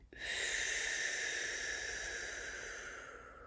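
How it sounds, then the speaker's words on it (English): A slow exhalation through pursed lips, one steady breathy hiss lasting about three seconds that fades gently at the end, close and quiet with no talking. "Holding for just a second at the top of the breath, and then exhaling slowly through pursed lips to slow down that rate of speed."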